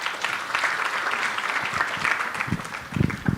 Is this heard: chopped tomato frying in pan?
no